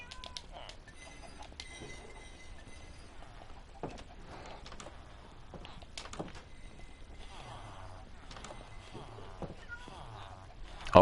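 A Minecraft cat gives several soft, scattered meows against quiet background game sounds, and a person talks and imitates the meowing near the end.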